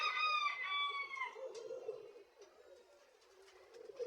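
Pigeons coo and a rooster crows close by at a loft awaiting returning racing pigeons, with a harmonic crow at the start and softer calls and rustling after.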